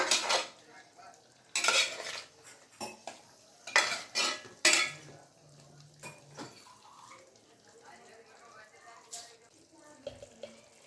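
Chicken pepper dry cooking in a pan while a spoon stirs it, with repeated loud scraping and clattering strokes over a soft background sizzle, then quieter stirring toward the end.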